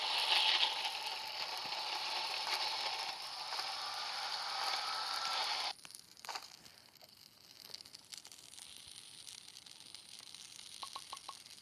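A grinder machine in a forest survival video game whirs with a bright, steady mechanical grinding that stops abruptly partway, followed by scattered clicks and small rattling mechanism sounds, faint overall.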